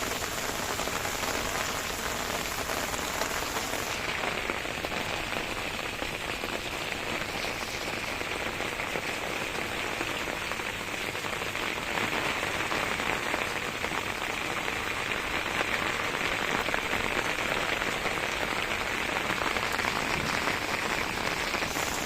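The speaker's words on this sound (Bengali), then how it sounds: "অনেক বৃষ্টি হচ্ছে।" Heavy rain pours steadily onto a rooftop garden of vine spinach and other plants, a dense, unbroken hiss of drops spread evenly, with no voices.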